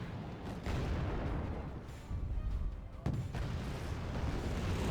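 Anti-tank guided missile launches and impacts in the video game Wargame Red Dragon: dense rumbling booms and blasts with a sharp crack near the end, loud and continuous over a battle din.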